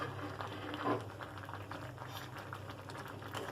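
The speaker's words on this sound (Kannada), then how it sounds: "ಈಗ ಕುದಿಲಿಕ್ಕತ್ತದ ಇದನ್ನ ಮ್ಯಾಲ ಮುಚ್ಚಿ ಎರಡು ನಿಮಿಷ ಕುದಿಸೋಣ" Bisi bele bath bubbles steadily in a pot on a gas stove, a soft continuous simmer of popping bubbles that stays even and fairly quiet throughout, with no talking.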